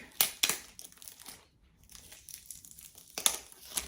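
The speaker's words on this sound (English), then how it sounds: "we're gonna take off the plastic really quick" Plastic wrap being peeled off a Spider-Man playing card deck box, with crisp crinkling bursts at the start and end around a brief quieter pause, close up.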